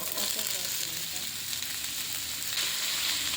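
Chopped potatoes frying in a pan with crushed garlic, a steady dense sizzle that holds at an even level throughout, close and continuous with no talk.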